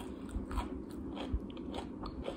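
Close, crisp crunching of someone chewing crunchy onion rings, with repeated bites and munches in an uneven rhythm, no talking.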